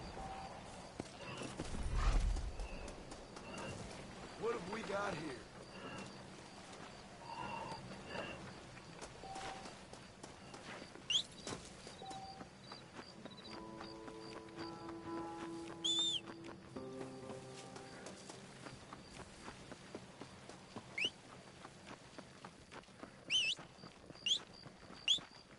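Hooves clip-clop at a steady walking pace in the Red Dead Redemption video game, soft and fairly close, with the rhythmic clatter continuing alongside occasional game sounds and brief musical tones.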